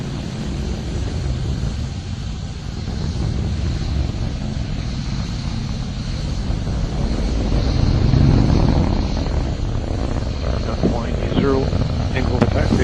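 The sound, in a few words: RD-180 rocket engine firing during launch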